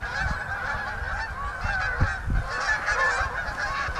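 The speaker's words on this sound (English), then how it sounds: "Some very noisy Canada geese are now in the area." Canada geese honk noisily and repeatedly by the middle River Severn in November, several birds calling over one another at moderate distance, with low thumps of wind underneath.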